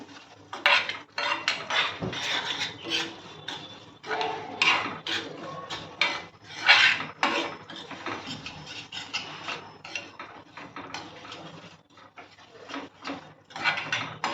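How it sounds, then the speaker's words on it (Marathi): Semolina being roasted in ghee over a medium flame for moong dal halwa, with a spoon stirring and scraping against the pan in irregular clinks and scrapes, close and fairly clear. "आता हा तुपामध्ये छान परतून घ्यायचं आपल्याला गॅस मिडियम ठेवायचं आहे"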